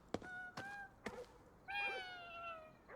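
A cat meows in the video game Ghostwire: Tokyo: three short, faint meows in quick succession, then a longer drawn-out meow over low background ambience.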